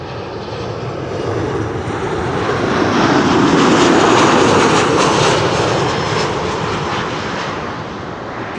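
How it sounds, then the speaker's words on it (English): KLM Boeing 737-800 jet airliner arriving from Porto, a broad roaring engine noise that swells to a peak mid-pass and slowly fades, heard from a distance outdoors. "This is KLM flight 1570 arriving from Porto in Portugal. Flight 1570 is a"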